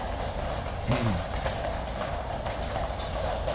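Horses clip-clop on hard ground at Horse Guards in London, a steady run of hoof strikes close by over a busy outdoor crowd murmur.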